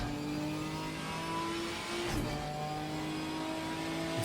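A GT4 race car accelerates on the Zolder circuit in Belgium, its engine tone climbing steadily in pitch with a brief change partway through, heard at moderate distance with no voices.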